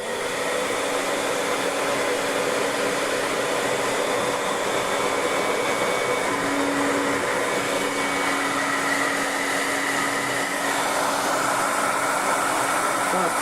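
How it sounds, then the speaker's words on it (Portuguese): A hair dryer blows hot air onto an amplifier's heatsink, a steady, loud whooshing hum with a constant motor whine running unbroken throughout, close to the microphone. "Tenho aqui um secador."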